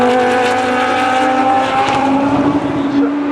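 Race cars at the 2009 24 Hours of Le Mans roar past with a loud, sustained engine drone shifting in pitch, while a voice talks underneath.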